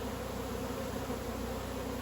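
Honey bees shaken out into a single hive box fill the air with a continuous, even buzzing hum, close and steady with no talk.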